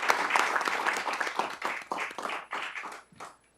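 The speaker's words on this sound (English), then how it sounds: "Let's give all of our teachers and staff a round of applause." Applause for teachers and staff at a school board meeting: a room of people clapping, fairly loud at first, then thinning and fading out in scattered claps toward the end.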